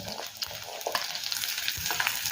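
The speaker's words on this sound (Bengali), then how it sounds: "ডিমের পোস্টটা ভেজে নেব।" Steady, close sizzling of egg frying in a wok, with a few light scrapes and crackles throughout and no talking.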